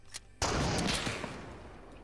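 A single loud gunshot in the Fortnite One Shot limited-time mode cracks sharply after a brief quiet, followed by a long, noisy decaying tail with no talk over it.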